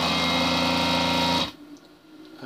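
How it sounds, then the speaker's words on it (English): Vacuum compressor of a desoldering station running loudly as a steady, buzzing motor hum, then cutting off abruptly after about a second and a half, leaving only quiet background. "you can hear the compressor running"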